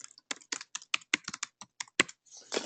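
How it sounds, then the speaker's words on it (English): Rapid bursts of keystrokes on a computer keyboard, close and crisp, in an irregular rhythm of a dozen or so clicks with short pauses, ending in a quick flurry, no voices. "typing in that keyword"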